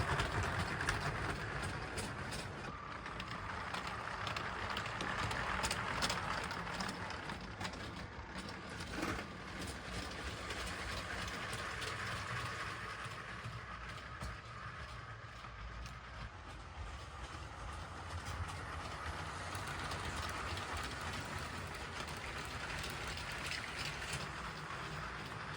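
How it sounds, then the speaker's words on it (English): A LEGO train runs around its track with a continuous rumbling clatter and rhythmic clicking of wheels over the rails, steady and fairly close for the whole stretch, with no talking. "I think this is a great train, so I'll let it run around for a little bit"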